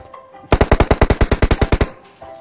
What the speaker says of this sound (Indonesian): Kampret nembakin gua